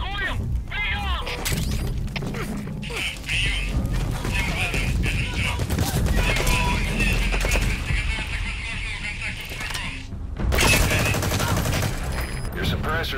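Gunfire in Metal Gear Solid V: The Phantom Pain, with repeated loud shots and bursts that mix with shouting voices, clatter and a horse's whinny across a busy battle scene.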